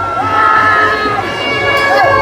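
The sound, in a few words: crowd cheering at Raibadevi palkhi procession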